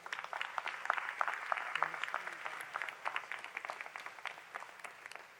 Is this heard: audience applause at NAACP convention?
yes